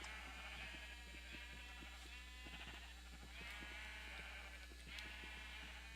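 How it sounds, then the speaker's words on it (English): Different colored sheep in the video game Minecraft, kept for wool: repeated short bleats and soft clicks over a steady low hum, fairly faint, with no talking. "we have our different colored sheep for the different wool harvesting purposes"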